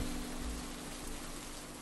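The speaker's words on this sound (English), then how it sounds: "It's raining." Steady rain falls in the Five Shows at Wario's video game, a soft, even hiss that continues unbroken throughout with no voices.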